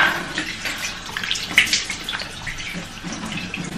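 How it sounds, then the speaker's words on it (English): Tap water runs while someone washes their face, a close, steady splashing hiss with small surges and drips, and nobody speaks over it. "So let's wash the face."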